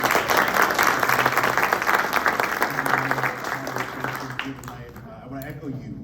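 A congressional candidate forum audience breaks into a round of applause, loud and dense at first, then thinning and fading toward the end, with a faint voice underneath.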